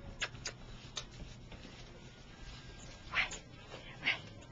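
Two bullmastiff puppies at play give faint, scattered high yips and whimpers, a few brief squeaky bursts over soft shuffling and low background noise.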